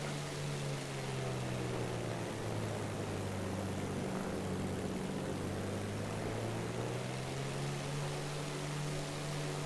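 Steady, loud Supermarine Seafire propeller engine droning continuously at full boost in a flight simulator game, a deep harmonic hum with a brief dip in pitch midway, no voices.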